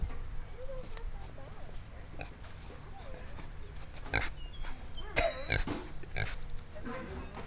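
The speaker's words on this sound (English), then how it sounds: "Can I pet the pig?" A giant pet pig grunts in short, low, scattered snorts at a garage sale, close by, amid background chatter and handling noises.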